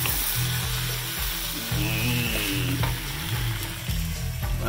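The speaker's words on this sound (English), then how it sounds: "Stir it up." Mushrooms and polenta frying in a pan give off a loud, dense sizzle up close, broken by scraping stirring strokes through the food.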